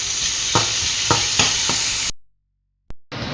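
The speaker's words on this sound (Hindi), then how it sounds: "अभी आपने बीन्स, कैप्सिकम ने ये बधा अपने तेल में सोटे कर लेना।" Beans and capsicum sautéed in oil, a loud close sizzle with four rhythmic stirring scrapes, then an abrupt cut to silence before the frying briefly resumes.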